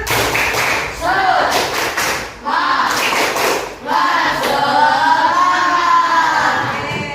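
A group of schoolchildren in a classroom performs a 'tepuk semangat' spirit clap in a fast rhythmic pattern, with bursts of sharp claps and shouted voices mixed in, loud and close.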